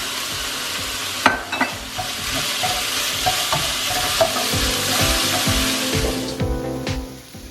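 Chicken and rice cake sticks stir-fried in a pan with onion, carrot and celery, a loud continuous sizzle broken by repeated scraping and clanking of the utensil against the pan, no voices.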